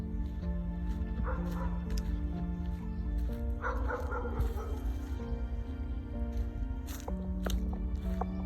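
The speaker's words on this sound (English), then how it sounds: "So, the dogs are barking next door." Several dogs bark and yip next door on a horse farm property, heard at a moderate distance in repeated bursts with a steady outdoor background, and no talk over them.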